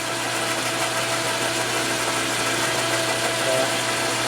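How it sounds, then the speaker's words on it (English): Motor running steadily on a flywheel truing tool setup for a Milwaukee-Eight crankshaft, a constant loud mechanical drone with an even hum and no breaks. "Shut the motor off."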